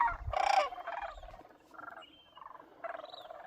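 A flock of a few hundred herons at the Whitewater Draw wildlife and bird reserve in Arizona gives loud, harsh, overlapping calls that rise and fall in short bursts. The birds sound fairly close, and no one speaks.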